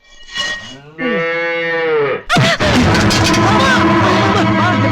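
A cow moos loudly and close, two drawn-out calls, followed by a dense background of voices and crowd noise.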